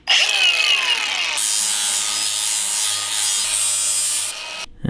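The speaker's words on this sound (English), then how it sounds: "this is a flap disc, and it's used to kind of grind down the edge of metal" A flap disc grinding down the edge of a metal piece for a heavy shop table, a loud, close, continuous abrasive whine that runs steadily before cutting off near the end.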